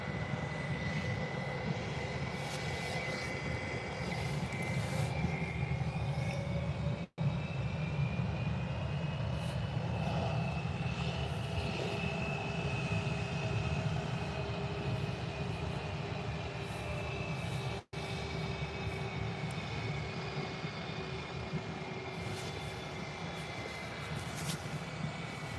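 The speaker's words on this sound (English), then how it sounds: "This Eurowings heading back out to Dusseldorf, Germany." A Eurowings airliner heads out at Birmingham airport bound for Dusseldorf, its jet engines giving a continuous loud roar with a sustained whine that rises and shifts slightly as it moves, steady throughout with no talk.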